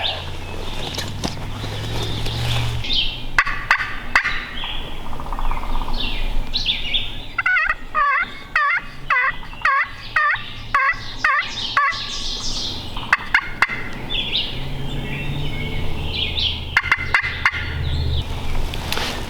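Wild turkeys gobble repeatedly in the Hocking Hills woods, a rapid rattling call standing out from steady outdoor background noise, with more distant gobbles before and after.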